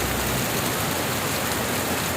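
Heavy rain pours down in Kerala as a dense, constant roaring hiss with no gaps, loud and close throughout.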